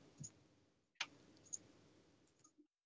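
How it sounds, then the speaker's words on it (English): A few faint, sharp mouse-button clicks over quiet background hiss, spaced irregularly. "you hear him clicking the mouse button"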